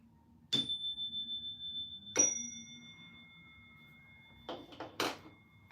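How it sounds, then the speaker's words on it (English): Electronic chime tones from a phone app, a suggestion bell numbered 566: a soft ring near the start, a brighter struck tone around two seconds with a long sustained ring, then a quick cluster of short dings near the end, in a quiet room. "It's a suggestion bell"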